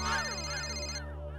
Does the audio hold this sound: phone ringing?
yes